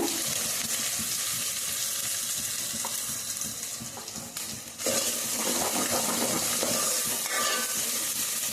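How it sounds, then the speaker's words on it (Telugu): Sliced onions fry in a pan with turmeric for a mango chicken curry, making a dense, steady sizzling hiss that dips briefly midway before surging back, close and loud with no talking. "ఉల్లిపాయలు అయితే వేగుతూ ఉన్నాయి కదండి"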